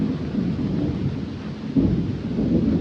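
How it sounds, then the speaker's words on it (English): Thunder rolls outdoors during a thunderstorm as a deep, steady low rumble with a stronger swell midway, heard alone over soft rain and wind noise. "I love a good thunderstorm, don't you?"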